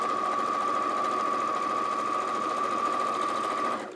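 A sewing machine runs steadily and close by, stitching fabric in one unbroken rapid hum with a bright mechanical whine, then stops abruptly at the end; this machine has a thread cutter.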